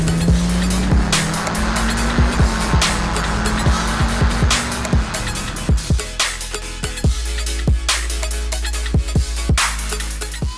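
A 2016 Smart Fortwo Brabus driving, its engine drone shifting pitch partway through as it changes gear, overlaid by repeated sharp clicks and knocks throughout, loud and close.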